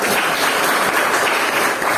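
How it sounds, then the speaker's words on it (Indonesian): Classroom of students applauding together during a history lesson, a dense steady clatter of many hands filling the whole stretch at even loudness. "berikan tepuk tangan untuk kita"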